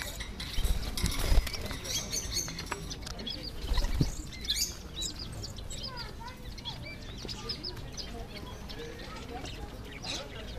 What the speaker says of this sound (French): Ils sont gros les canaris